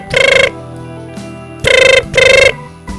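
A mobile phone rings loudly and close by, giving three bursts of an electronic ringtone separated by short pauses, with no talking over it.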